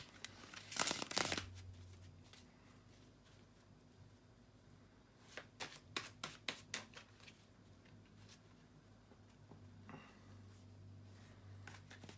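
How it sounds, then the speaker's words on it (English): Tarot cards being shuffled by hand: a quiet burst of crisp riffling early on, then a run of soft rapid card flicks and slaps, with near silence in between. "just bear with me a second, guys, to shuffle the tarot cards"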